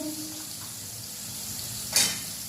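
Turmeric, coriander and cumin temper in hot oil for a desi brinjal oro, a soft, steady sizzle with one brief sharper hiss of spatter near the end.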